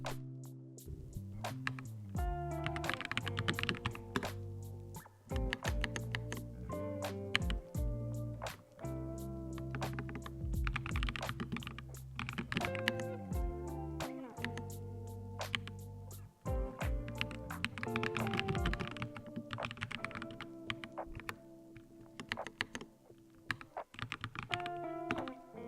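Steady typing on a computer keyboard, dense rapid key clicks with brief pauses running throughout, close and fairly quiet, with no talk.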